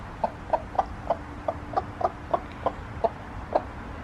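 A broody hen clucks close by on an urban farm, about a dozen short, evenly spaced clucks in a steady rhythm over a quiet background, with no talk.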